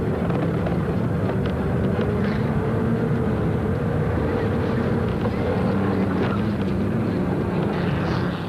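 V8 Chev race car engines in a 1997 Super Series circuit race, a dense, loud and continuous roar with a droning tone that holds throughout, without any clear pause.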